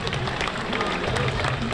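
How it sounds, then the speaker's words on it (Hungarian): Audience at the Sümeg Trail running race clapping in a dense, continuous patter of many hands, with a crowd murmur and a voice talking over it. "őket is tapsoljuk meg"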